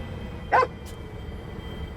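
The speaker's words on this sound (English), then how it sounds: "A dog barking is not strange." A single short dog bark sounds in the video game Beast of Reincarnation, quick and moderately loud over a low steady game background, followed by a faint second yip.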